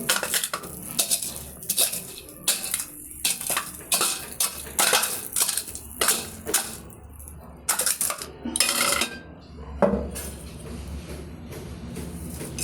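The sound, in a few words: crushing hot fried lentil dumpling (bori) with a grinding stone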